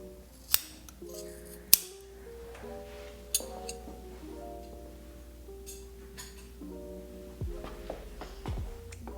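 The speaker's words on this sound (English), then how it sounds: "we're just going to trim it as close as we can so that you can't see any of the trimmed strings from the front" Several crisp, close scissor snips cut knotted cord strings of a square knot sinnet, each sharp click standing out against a quiet room with faint tones and light handling noise.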